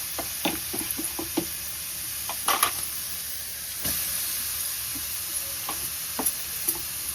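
Beetroot and softened onions sautéing in a pan make a quiet, steady sizzle, broken by scattered knocks and scrapes as a spoon stirs them against the pan.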